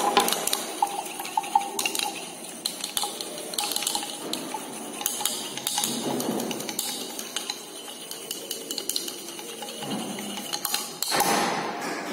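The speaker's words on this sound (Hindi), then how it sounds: "मुझे अभी क्लोरोफॉर्म हल्का सा और डालना है। इसे अच्छे से मिक्स करना है।" A solvent mixture with chloroform being stirred in a glass vessel for a thin layer chromatography experiment, steady liquid swishing with repeated light clinks of glass throughout, close and fairly loud.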